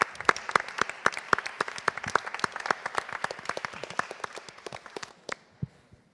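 A small audience claps for a theatre company at a festival feedback session, a crisp run of separate hand claps with fairly sparse rhythm that thins out and stops near the end.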